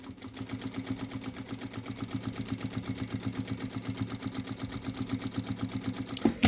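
A domestic sewing machine stitching a fabric passport and document holder with a presser foot, running in a steady fast rhythmic whir and clatter throughout, fairly close, with a brief louder knock near the end.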